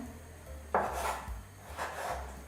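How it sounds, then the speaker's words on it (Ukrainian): A knife cuts fatty pork rib meat into small pieces on a board, giving two distinct scraping, rasping strokes against a low steady background hum, with no talking. "Нарізаю невеликими шматочками."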